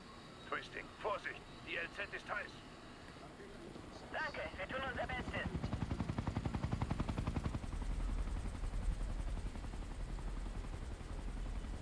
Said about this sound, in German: da kommt der Heli, ich höre ihn schon